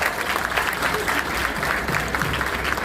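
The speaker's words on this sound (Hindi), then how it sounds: "उनके लिए भी तालियां बजाएं।" A literary festival audience applauds steadily, dense clapping at an even level from start to finish, with a faint murmur of voices underneath.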